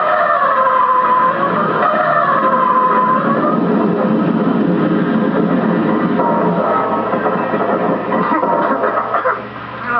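A race car engine roars steadily with a broad, grinding skid-like noise throughout as it skids off the track, loud and continuous, easing slightly near the end.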